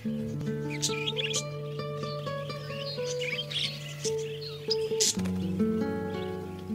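A budgie chirps and warbles close by, a busy run of bright tweets and short trills layered over steady tonal background sound, with no talking.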